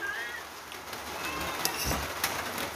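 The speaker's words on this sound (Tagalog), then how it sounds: "Kung ito, ulan amihan, binabayang ulan." Soft, steady amihan monsoon rain falls outdoors in a rural province, a faint even patter with a few scattered drips and light knocks over it.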